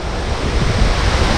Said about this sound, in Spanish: Acá el agua pega muy duro contra el rostro.